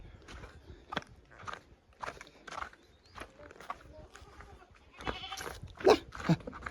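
A young goat kid bleats in a few short cries near the end, amid rustling and footsteps, while a person talks quietly nearby.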